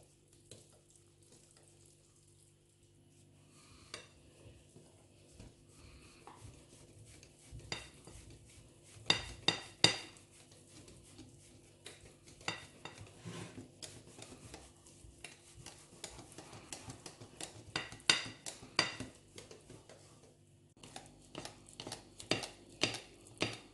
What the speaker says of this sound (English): Now I'm going to be turning the mixed flour in here and we continue mixing.